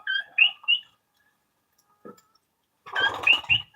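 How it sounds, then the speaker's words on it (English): A coqui frog calls outdoors with a few sharp, high whistled chirps at the start, a faint isolated click in the middle, and a louder, busier burst of calls near the end. "That's a coqui frog."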